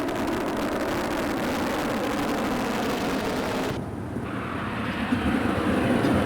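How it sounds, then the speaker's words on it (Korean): A jet aircraft roars steadily near the airport on Yeongjong Island, a loud broadband engine rush that drops abruptly and then continues at a lower, rumbling level. "비행기가 하루에 350회나 이착륙을 했다"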